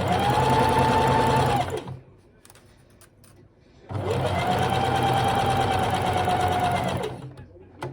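A sewing machine stitches a seam on a handmade stuffed toy, two loud, close bursts of fast whirring stitching with a quiet pause between them.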